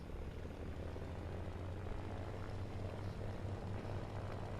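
A Ki-61 fighter's piston engine in War Thunder throttled up to about half power for takeoff, a steady loud propeller drone with a low throbbing hum, continuous and alone throughout.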